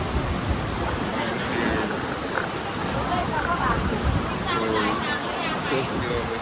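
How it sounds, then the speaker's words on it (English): Heavy rain pours steadily at a yacht club in Thailand during a flash flood, a dense continuous hiss of water close to the microphone with no break across the stretch. "it's raining."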